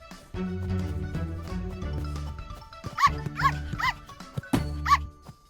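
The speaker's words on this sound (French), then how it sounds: "Quelle coquine, cette petite chienne!" A small cartoon dog gives several short, sharp yips and barks in quick succession over a faint background hum, in an animated children's show.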